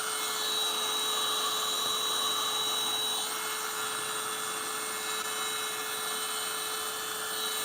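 A heat gun blows steadily on resin, making a continuous loud whirring, whining drone with a constant tonal hum that holds level throughout with no talk.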